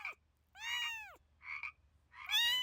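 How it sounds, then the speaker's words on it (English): Frogs croak in bursts, a few separate high, chirpy calls spaced over a couple of seconds against a faint low hum, fairly close and clear. "One day, Rowan was playing with his frog friends"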